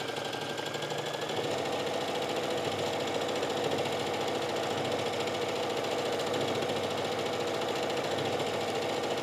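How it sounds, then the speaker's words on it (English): Sewing machine stitching down the other side of a fabric sleeve casing, a loud, continuous rapid mechanical whir that runs without a break, close and with no talking. "you would just go ahead and set this up to sew down the other side"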